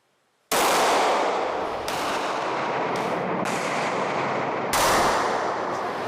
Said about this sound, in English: We put one to test with a 9mm pistol from 5 yards away